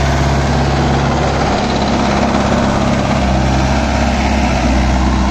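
A Mahindra Yuvo 575 4WD tractor engine runs steadily and loudly up close, a continuous low rumble with no pauses and no voices.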